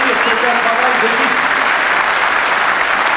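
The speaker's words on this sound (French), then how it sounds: "Vous pouvez l'applaudir très très fort" Loud, dense applause from an arena crowd at a cycling team presentation, continuous clapping close and even, with a voice faintly under it at the start.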